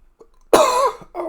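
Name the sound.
person coughing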